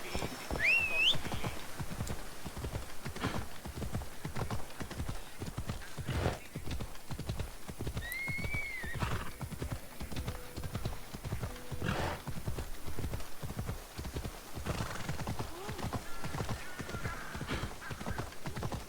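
A video-game horse's hooves clip-clop in a steady, even rhythm throughout, with a brief whinny near the start over a quiet background.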